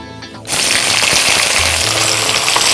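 Onions and green chillies sizzle hard in hot oil in a pan while browning for a rice rava and avarekaalu upma, a loud steady fry after a brief quieter start, with a few low stirring knocks.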